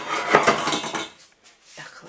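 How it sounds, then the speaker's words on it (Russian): Dishes and pans clatter and clink as they're shuffled around up close, a burst of clanking that fades, then a brief rattle again. "нужно разобрать посуду и достать сковородку"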